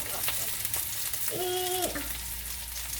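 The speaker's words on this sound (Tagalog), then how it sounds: "I-prito lang natin ng very, very light" Onion frying in oil: steady oil sizzle and crackle close up, continuous throughout, with a brief tonal squeak in the middle.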